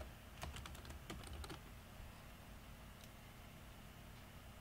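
Typing on a computer keyboard: a quick run of light clicking keystrokes near the start, then a single later tap over a faint background hiss.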